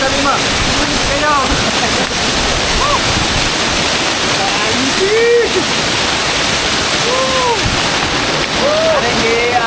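Hidden waterfall in Barangay Halang, Lipa City, Batangas, a loud continuous rushing roar close by, with people talking and calling out over the steady wash of falling water.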